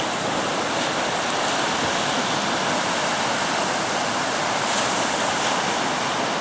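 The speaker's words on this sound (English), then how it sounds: "this is Elliot Beach" Waves break continuously on Elliot Beach near Arbroath, a loud, unbroken roar of surf with no voices.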